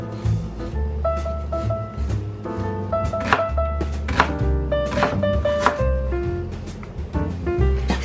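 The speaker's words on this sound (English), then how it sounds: "Cut half of the onion halfway through and cut the other side later." A knife chops through an onion on a cutting board, giving a series of close, irregular thunks, with light kitchen music or background tones running underneath.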